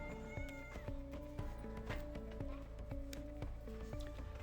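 A farm cat meowing, a few soft, faint cries over a steady rhythmic clopping or mechanical background, with someone calling to it nearby.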